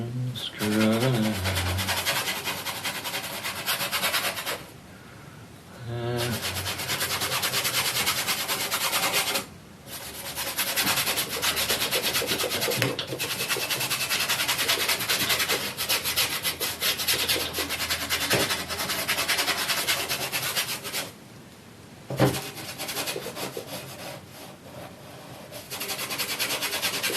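A paintbrush scrubs oil paint onto a canvas background in continuous, close, raspy rubbing strokes, with a few brief pauses between bursts.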